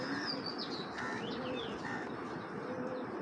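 A pigeon cooing softly among a group of pigeons, a few faint low calls with light chirps over a steady background hum.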